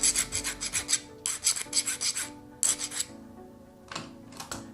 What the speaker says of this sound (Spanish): Vamos a limar los extremos en forma plana, el otro lado también